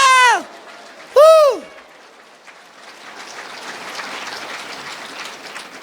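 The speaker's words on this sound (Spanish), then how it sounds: "Fuerte aplausos Iglesia de Cristo" A Church of Christ congregation breaks into a steady wash of clapping that builds and holds for several seconds, following two short, loud, sweeping tonal sounds at the start.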